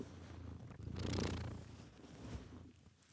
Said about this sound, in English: There's some purring in there for you